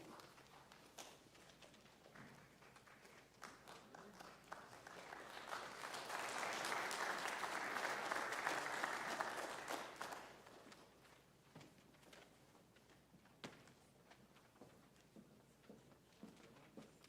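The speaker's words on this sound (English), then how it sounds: "let's give this group of seniors one final round of applause" An audience at a senior awards night gives a round of applause that swells to a peak midway and then thins to scattered claps. The clapping is fairly faint overall.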